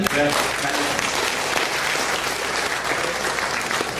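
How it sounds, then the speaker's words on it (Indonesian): Audience at an entrepreneurship workshop for university students applauding steadily and loudly throughout, a dense wash of many hands clapping with a voice briefly heard at the start. "tepuk tangan sekali lagi"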